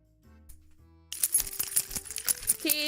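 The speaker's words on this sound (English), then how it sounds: "I feel like my keys are different than the last time I jingled it" Keys on a keychain jingle close by, a bright metallic clatter that bursts in after a quiet moment and keeps rattling unevenly for about two seconds.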